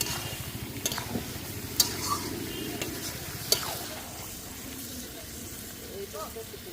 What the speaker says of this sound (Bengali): একটু গোলমরিচের গুঁড়ি ভালো করে সব কিছু একসঙ্গে মিশিয়ে ভালো করে কষিয়ে নেব